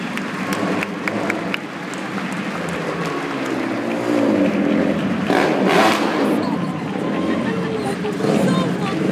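A small racing vehicle engine revs and whines close by amid a crowd at a sports awards event, with people talking over it and bursts of higher revving.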